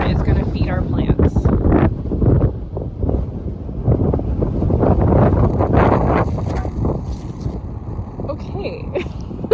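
Steady wind gusts buffet the microphone outdoors while a garden bed is being built, a loud rumbling roar that runs throughout, with someone talking under it.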